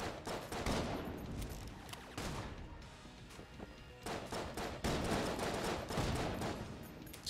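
Rapid bursts of gunfire from a weapon in Enter the Gungeon, dense overlapping shots in quick succession with short pauses, loud and continuous for several seconds.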